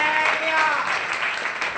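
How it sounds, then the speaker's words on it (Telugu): A church congregation breaks into loud, sustained applause at a sermon, with many hands clapping densely while a voice carries on over it. "కొట్ట చప్పట్లు గట్టిగా."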